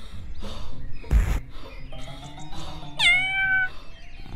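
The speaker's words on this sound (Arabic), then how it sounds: "يا لك من قطة جميلة." A cat meows in a children's cartoon scene, with a short burst of noise and some other voices first, then a clear, close rising meow near the end.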